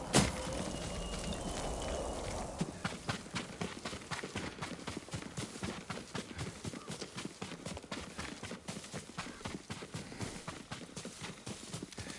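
Horse hooves clip-clop steadily across ground in the Ghost of Tsushima video game, a loud nearby rhythmic trot of repeated sharp knocks over a soft ambient bed, with no talk.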